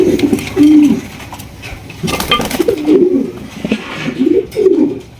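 Pigeons at a market stall coo in repeated soft, throaty rolling phrases, close and fairly loud, with faint background noise and no talking.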